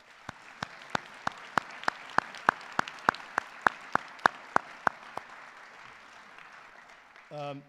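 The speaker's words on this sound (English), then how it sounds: "I'd like to give them a huge round of applause" Applause at a high school induction ceremony in slow, evenly spaced claps, about sixteen in a steady rhythm over quiet room noise, with a brief voice at the end.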